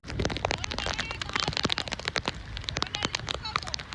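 Heavy rain falling at the sea, a dense, loud patter of drops hitting water and surfaces, continuous and close for the whole stretch with constant crackling texture.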